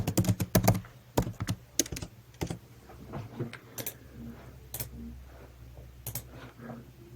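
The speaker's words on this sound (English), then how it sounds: "Or you can type." Typing on a computer keyboard, a close run of sharp clicky keystrokes in bursts, heaviest at the start and thinning into scattered taps, with no voices.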